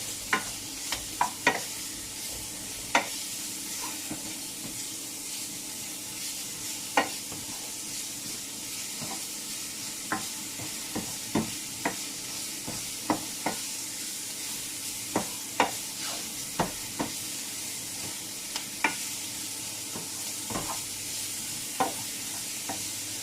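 Food frying in a pan for carbonara with a continuous sizzle, broken by repeated sharp scrapes and knocks of a utensil as it is stirred at irregular intervals, with no voices.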